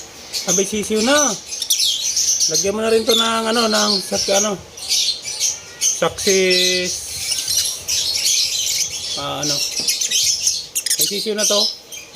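Pet lovebirds kept for breeding chirp and squawk in loud, close bursts, with sharp repeated calls and short pauses between them and a talking voice mixed in.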